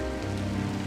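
Steady rain falling in the video game Drizzlepath: Genie, a dense, even patter on surfaces that stays constant throughout with no voices.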